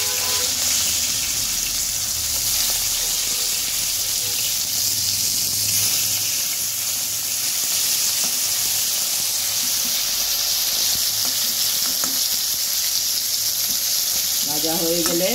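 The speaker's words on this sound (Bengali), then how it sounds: "মাছগুলো উল্টে পাল্টে আমি ভেজে নিচ্ছি।" Rohu fish pieces frying in oil and being turned make a strong, constant, close hiss and sizzle throughout, with a voice briefly at the end.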